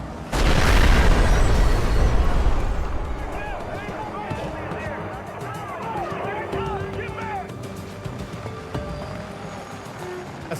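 A bomb blast at a clinic opens with a sudden heavy boom that rumbles and fades over a few seconds, followed by a lingering noisy aftermath with scattered higher-pitched sounds.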